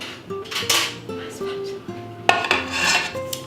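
Sugar and butter being creamed together in a bowl for a Victoria sponge cake, uneven scraping and rubbing strokes of a utensil against the bowl, close and fairly loud, with short pauses between strokes.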